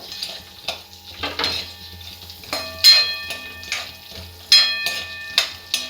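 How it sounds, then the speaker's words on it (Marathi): Masala ingredients roasting in a pan over a low flame, with a soft crackle under frequent scraping and clinking of a spoon stirring against the pan, close and fairly loud. "मंद आचेवर लालसर थोडंसं भाजून घ्यायचं मी एकातच भाजून घेते सर्व"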